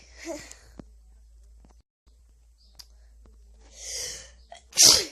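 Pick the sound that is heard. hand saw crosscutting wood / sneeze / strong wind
sneeze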